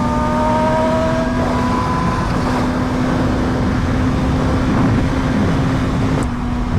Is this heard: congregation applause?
no